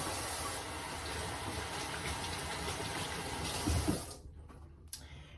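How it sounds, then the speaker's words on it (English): Tap water gushing steadily into a kitchen sink while hands are washed, loud and continuous for about four seconds before the faucet shuts off, leaving a few faint drips and handling noises. "Let me wash my hands."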